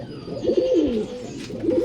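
Male Naptha pigeon cooing close by, a few soft rolling coos in quick succession, loud and clear with no talk.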